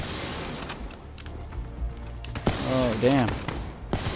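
Enemy gunfire in the video game Black Listed, scattered shots and bursts crackling through the first half, then a voice exclaiming over continuing fire near the end.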